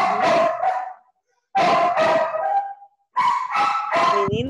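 A dog gives three loud, drawn-out barking howls close by, separated by short silent gaps.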